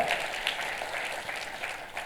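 A church congregation applauds during a sermon, with steady, moderately loud clapping from many hands filling the room throughout.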